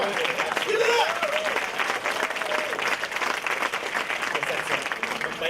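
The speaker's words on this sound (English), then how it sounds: "I think she deserves a round of applause." A studio audience gives sustained, steady applause that fills the whole stretch, with people talking and cheering over it.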